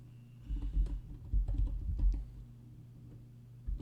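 Quick bursts of typing on a computer keyboard, close and fairly quiet, clicks clustered in short runs with brief pauses between.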